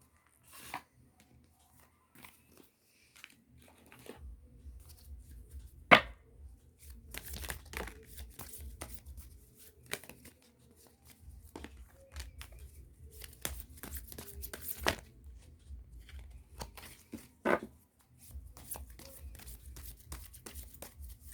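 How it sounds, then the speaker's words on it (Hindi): Oracle cards are shuffled by hand in a quiet room, with soft, intermittent rustles and flicks coming in short bursts and occasional sharper snaps. "Last shuffle."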